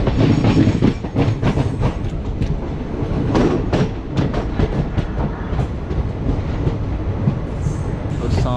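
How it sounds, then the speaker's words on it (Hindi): A train hauled by a WAP-4 electric locomotive arrives at an Indian railway junction with loud rolling rumble and repeated clickety-clack of wheels over rail joints, heard close from another train. "तो सामने एक और वेब 4 के साथ किसी ट्रेन का अराइवल हो रहा है।"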